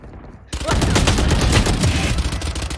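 Rapid gunfire from the video game Valorant bursts in suddenly and loudly, with a dense fusillade of shots continuing steadily after a quiet start.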